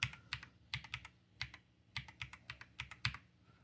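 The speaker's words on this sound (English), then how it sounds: "Let me just enter in my password here" A password is typed on a computer keyboard in quick, uneven clusters of crisp keystrokes, close but quiet, with no talking.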